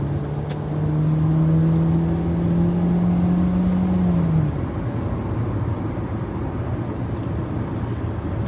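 Moderate road traffic in Toronto on an overcast day, a steady wash of passing cars with one engine droning louder for several seconds before fading into the continuous street noise.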